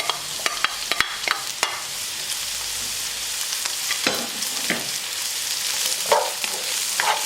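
Green and red capsicum and sweet corn sizzle in a hot pan while a spatula stirs them. Scraping strokes come quickly at first and then more sparsely over a constant loud hiss, and no one speaks.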